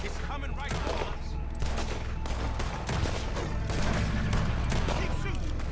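Gunfire during a train station robbery in Red Dead Redemption 2, dense rapid volleys of shots crackling continuously over low rumbling, with voices talking underneath.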